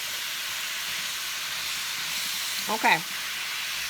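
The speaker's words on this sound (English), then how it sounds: "the apples are almost finished sauteing and getting soft" Apples sauté in butter in a cast iron skillet, giving a soft, even sizzle throughout, with a short spoken word near the end.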